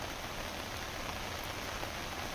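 Steady, dense rain pours without pause in the hills of Uttarakhand during a flood-bringing downpour, a loud, even hiss filling the whole stretch with no voices.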